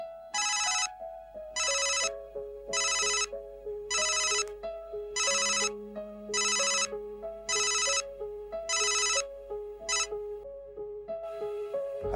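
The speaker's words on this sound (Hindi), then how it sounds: "तेरा फोन बज रहा है।" A phone ringtone plays a repeating melodic pattern in regular bursts, loud and close, with no talking over it.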